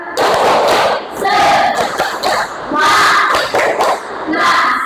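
Classroom of students doing a rhythmic 'tepuk semangat' spirit clap led by their teacher, patterned bursts of claps and thumps mixed with loud group chanting, pulsing in short phrases.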